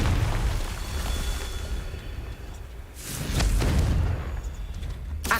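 A Confringo blasting spell bursts in Hogwarts Legacy, a loud whooshing boom near the three-second mark that swells into a rumbling blast over a steady low game ambience.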